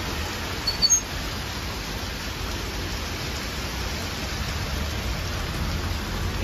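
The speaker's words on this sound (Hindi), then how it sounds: "ये बारिश है क्या, इतनी कम बारिश हो रही" Steady light rain falls on a city street at night on MG Road in Gurgaon, a soft continuous hiss with faint low rumble, constant and even throughout with no voices.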